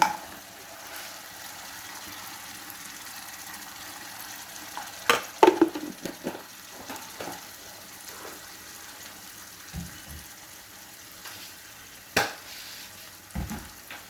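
Homemade sardines with tomato paste, soy sauce and sugar are stirred in a pan, with a soft sizzle underneath and scattered scraping clacks of a utensil against the pan, a few sharper knocks standing out.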